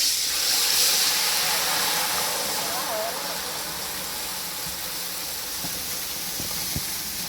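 Semolina cooks in melted sugar while a spoon stirs it, making a soft, steady hiss and sizzle that starts a little stronger and settles into a quieter, even bubbling with a few light clicks.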